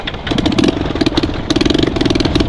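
A cold carburettor motorcycle engine idles roughly and unevenly on the road to Dhorpatan in Nepal, a close, loud, sputtering putter with an irregular stumbling rhythm throughout.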